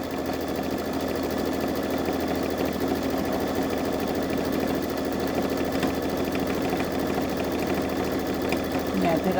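Baby Lock Solaris embroidery machine stitching a blanket stitch on a monogram, a steady fast mechanical whir and rapid needle rattle running continuously, with voices talking faintly in the background.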